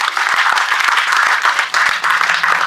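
An outdoor park crowd at a Brampton election campaign event applauds candidate Avi Dhaliwal: loud, dense clapping with a few sharp individual claps standing out, fading slightly midway before swelling again.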